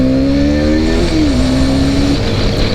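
A 2022 KTM RC 390 motorcycle engine drones loudly and steadily while ridden hard on a bumpy road, its pitch dipping with a shift before holding steady, under constant wind noise.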